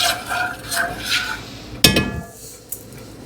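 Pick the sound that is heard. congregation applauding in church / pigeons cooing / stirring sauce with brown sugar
stirring sauce with brown sugar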